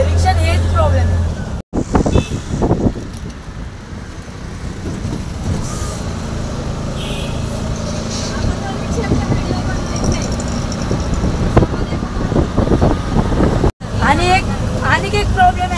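Steady traffic rumble and wind roar heard from inside a moving auto-rickshaw, passing vehicles and engine noise continuous and fairly loud, with a person talking over it throughout.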